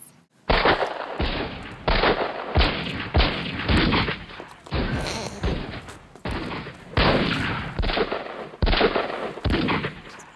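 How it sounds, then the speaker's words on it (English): Gunfire at the Battle of Gettysburg, where a cavalry lieutenant of the 8th Illinois opens the fight: loud, rolling bursts of shots crackle in dense clusters, one after another, with brief gaps between the volleys. "Lieutenant Marshal Jones of the 8th Illinois Voluntary Cavalry fires the first shot at the Battle of Gettysburg"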